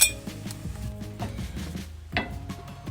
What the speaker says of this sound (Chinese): 开小火，不停地搅拌